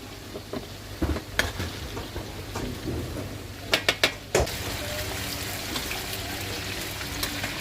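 A steady, faint sizzle of chicken wings deep-frying in oil, with a few sharp clicks and clatters of utensils near the pan.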